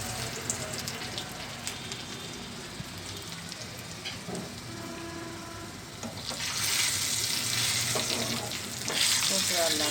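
Seasoning seeds, curry leaves and onion pieces crackle and sizzle in hot oil while tempering a Telangana raw cucumber pickle. A continuous frying hiss swells noticeably louder partway through.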